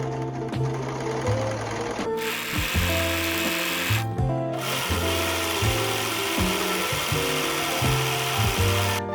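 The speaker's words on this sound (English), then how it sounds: "I serged all of the edges for the balaclava" Serger sewing machine overlocking the fabric edges of a balaclava, rapid mechanical stitching in loud bursts separated by brief stops, close and with no voices.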